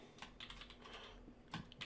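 Quick, light keystrokes on a computer keyboard while entering data into an Excel spreadsheet, a soft run of clicks close by and fairly quiet.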